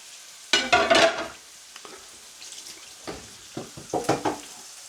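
Burger patties fry in a pan, crackling and sizzling up close with bursts of louder spitting as they are moved, then a steadier, quieter hiss.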